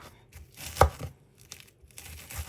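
A knife chops through Scotch bonnet pepper skin on a cutting board, one sharp close cut followed by a few softer, scattered taps and scrapes, with no talking.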